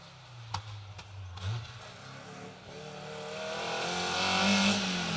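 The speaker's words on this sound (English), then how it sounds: "We've got the 206 of Watty Warwick and Darrell Clark first." Peugeot 206 rally car on an asphalt stage, a few sharp bangs and an engine note rising steadily as the car approaches, moderately loud with no talk.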